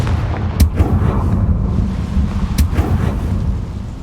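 Confringo fire blast spell in Hogwarts Legacy, two sharp cracking blasts about two seconds apart over a steady, dense low rumble of game ambience, with no talking.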